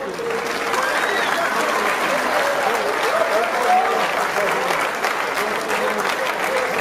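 A crowd at a boxing night applauds the fighters, with dense, sustained clapping of even loudness throughout.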